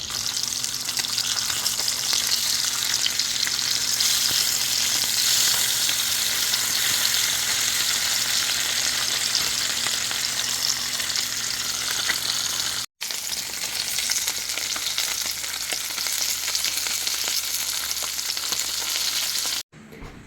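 Fish marinated with turmeric, chili, salt and garlic frying in a pan, a continuous loud close sizzle with two brief drops to near silence.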